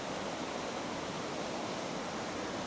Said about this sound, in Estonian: Nõmmeveski juga asub Harju maakonnas Kuusalu vallas Lahemaa rahvuspargi territooriumil.